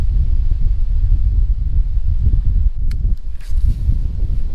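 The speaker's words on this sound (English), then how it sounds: "Wind is whipping." Strong wind buffets the microphone with a steady low roar while kayak fishing on a small creek, gusting continuously and loud throughout, with a few faint rustles and clicks near the middle.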